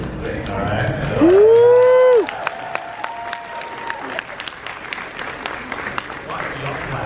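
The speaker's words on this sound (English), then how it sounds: "Why are y'all clapping?" Convention panel audience at Horrorhound Weekend claps in a scattered, moderately loud patter, following a loud whooping vocal shout early on.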